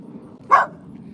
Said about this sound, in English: No, don't bark.